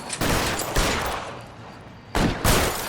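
Gunfire rings out in the LA Noire video game in two clusters of sharp, loud shots with a quieter gap between them.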